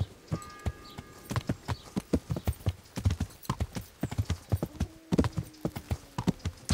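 Horse hooves clip-clop in a fast, steady rhythm as a rider travels along a road in the medieval role-playing game Kingdom Come Deliverance, close and clear, with a brief snort partway through.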